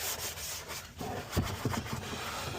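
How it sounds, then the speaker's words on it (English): A soft white Scotch scrubbing pad rubs hard across a car's surface in short, close, raspy strokes that pause briefly before the scrubbing resumes. "this gets a scrubbing, the heavy scrubbing"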